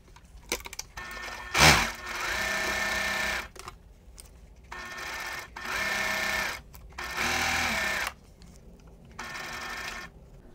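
A sewing machine chain-pieces pinned quilt four-patches, running in several short bursts of fast stitching hum separated by pauses and faint handling clicks, close and clear.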